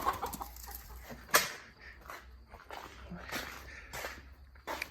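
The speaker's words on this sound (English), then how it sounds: "Mr. Rooster must be chasing Mrs. Hen." Chickens cluck and squawk close by in short bursts, with a sharp outburst early on and rustling movement throughout.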